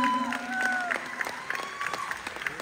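A live rap concert crowd at The Meeting House in Oakville claps with scattered sharp hits under a held musical tone, moderately loud and thinning toward the end.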